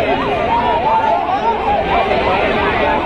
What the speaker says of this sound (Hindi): वाकई बहुत बड़ी एक भीड़ है ये।